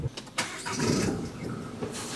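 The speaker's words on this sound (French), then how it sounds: "on va faire un petit départ arrêté, un petit cold start, bien sûr" A Peugeot Expert van's engine cold start at the start of a rally trip to Budapest, a brief crank followed by the engine catching and settling into a rough, steady run, close by.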